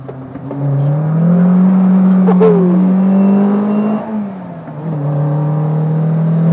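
Custom VW Golf MK1 with a small 120 PS engine, droning steadily while driving through corners, its pitch dipping and rising as the throttle changes, loud and close inside the car.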